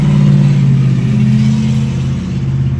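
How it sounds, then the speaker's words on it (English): A loud pickup truck passing near a front porch, its deep, steady engine rumble droning close and strong throughout, easing slightly toward the end. "You hear this truck coming by."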